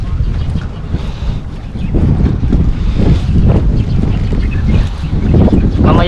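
Wind blows by the sea at a beach, gusting and rumbling heavily across the microphone in uneven surges, with a faint wash of waves underneath and no clear talking.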